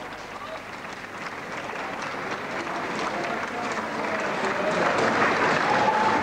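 Sustained applause and cheering from a crowd at a regimental presentation of a new guidon for the Duke of Lancaster's Own Yeomanry, a dense steady clatter of clapping that swells slightly louder toward the end.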